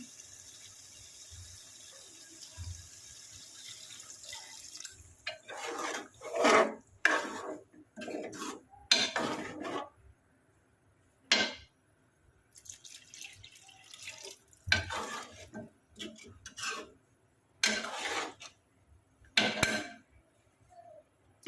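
One to one and a half glasses of water splash into a pot of Punjabi chicken in several separate pours, with brief quiet gaps between them and a light clink of metal.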